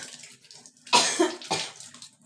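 A person with a four-day cough and sore throat coughs twice, two harsh, fairly loud bursts close to the microphone, with quiet room noise around them.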